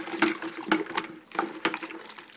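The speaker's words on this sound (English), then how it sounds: "I'm going to give it one more quick stir" Homemade liquid laundry detergent stirred in a bucket gives a series of wet swishing sloshes, roughly two per second, close and moderately loud with no voices.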